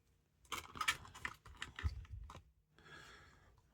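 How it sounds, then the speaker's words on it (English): Cards for the Marvel Champions card game are shuffled in quick, soft riffling bursts and taps, faint and close, with short pauses between passes. "Get a couple more shuffles in."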